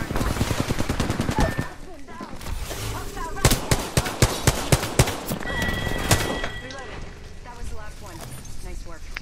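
Gunfire in the video game Apex Legends, with bursts of rapid shots and sharp single cracks over game effects, loud and close, with a horse whinny and hoof clip-clop also heard and some speech.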